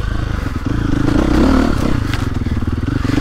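Stark Varg electric dirt bike ridden along a cross-country woods trail, a steady close whine under continuous clatter and scraping from the terrain, with no gear changes or clutch pauses.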